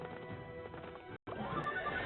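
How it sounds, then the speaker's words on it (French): A horse in the Clash Royale video game neighs loudly over clip-clopping hooves, a short whinny heard twice around a brief gap. "Un cheval qui se bat."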